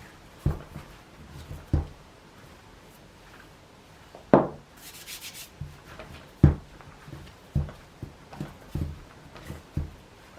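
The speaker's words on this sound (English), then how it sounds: "Squish your marzipan until it's pliable" Marzipan squished and kneaded by hand on a work surface dusted with icing sugar, giving soft scattered thumps and presses at an irregular pace, close and quiet, with no voices.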